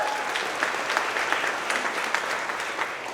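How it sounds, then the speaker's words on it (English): A crowd at a company monthly celebration applauds steadily, with dense, continuous clapping at moderate loudness throughout and no clear speech. "Let's make some noise for Jeff Mullinax"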